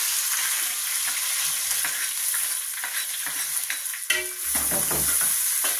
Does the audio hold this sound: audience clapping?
no